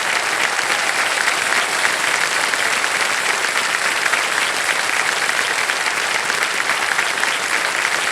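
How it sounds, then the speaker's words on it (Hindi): A studio audience on a quiz show applauds continuously, an even, full wash of clapping that holds steady from start to finish with no talk over it. "ताली बजती रहे, ताली बजती रहे इनके लिए"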